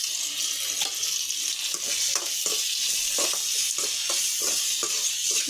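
Tomato sautéing in a pan for a brinjal and drumstick sambar, a steady bright sizzle with repeated scraping strokes of a spoon stirring, close and continuous.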